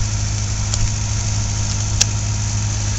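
A dead vehicle, just brought back to life with a jump start, idles steadily with a low, even engine rumble, close and loud throughout and with no voices over it.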